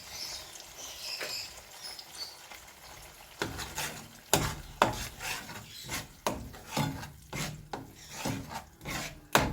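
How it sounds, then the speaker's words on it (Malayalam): A spoon scrapes and rubs in steady, regular strokes as coriander powder, turmeric and ground chilli are mixed into bottle gourd paneer in a pan. The strokes begin after a quiet stretch, are fairly close, and no one speaks. "നന്നായി ഇളക്കി ചേർത്തെടുക്കുക."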